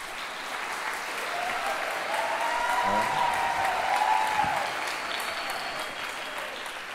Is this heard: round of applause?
yes